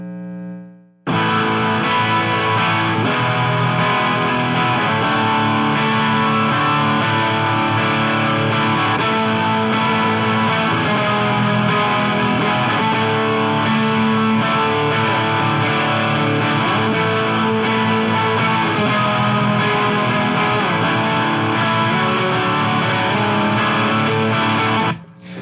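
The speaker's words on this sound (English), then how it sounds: "we'll just switch this up so it's going through a distortion channel, and then we'll start to play some octave progressions over the top" Electric guitar through a distortion channel plays octave progressions, a continuous loud, sustained overdriven tone with shifting pitches over about twenty-five seconds, with no talk.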